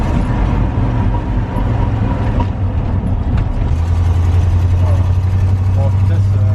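1978 Chevrolet Cheyenne pickup engine droning steadily while driving, a low rumble that deepens partway through, heard from inside the cab with people talking over it.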